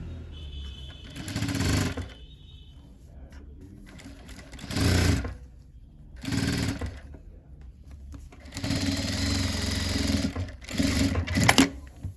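A sewing machine stitches a blouse in several short bursts of close, rattling whir separated by quiet gaps, the last stretch running longer with a few faint clicks.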